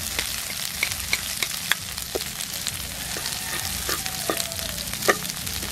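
Garlic sautés in hot oil for binagoongan pork, a close, steady frying sizzle with sharp crackles and spatters and occasional spoon stirring.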